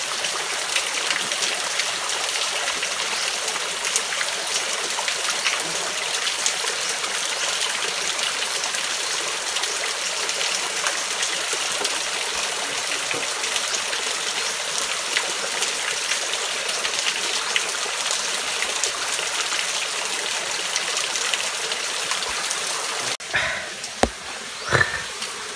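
A small forest waterfall stream rushing steadily as a climber ascends it, a continuous bright hiss of water with a few faint knocks near the end.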